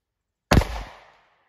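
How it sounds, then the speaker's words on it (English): A single sharp, loud gunshot from a Winchester Defender 38 Special +P revolver with a short 1.9-inch barrel, fired into a gel test block at about five feet, cracks out of silence and rings briefly before fading. "I'm going to shoot from about 5 feet away."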